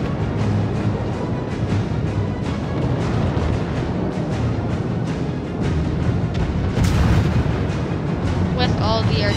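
Naval gunfire in World of Warships, fired during a battle involving the Tier 3 Japanese cruiser Tenryu: a loud, dense, continuous rumble of booming shots that fills the whole stretch, with a brief brighter burst near the end.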